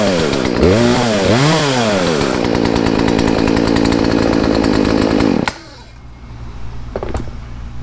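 Loud Poulan chainsaw after repair, engine revving up and down close by, then holding a steady buzzing idle before it cuts to a low background hum with a couple of small knocks.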